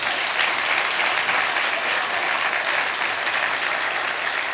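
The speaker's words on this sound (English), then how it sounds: "let's give the Yonkers Children's Choir another round of applause" An audience applauds the Yonkers Children's Choir at a State of the City address, a dense, even wash of many hands clapping that holds steady throughout, loud and with no talk over it.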